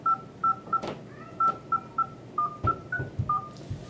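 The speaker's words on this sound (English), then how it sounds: "trying to dial with your finger" Dialing tones from a Motorola EX124g phone, keyed by fingertip taps on its touchscreen: a run of about a dozen short, evenly spaced beeps of varying pitch, clear and close, with faint tapping between them.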